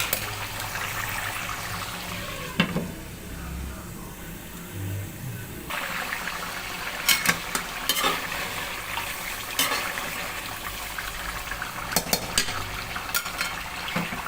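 Chicken karahi cooks in a pan over a medium flame, a soft steady sizzle with a spoon scraping and clinking against the pan in scattered knocks, close and fairly quiet.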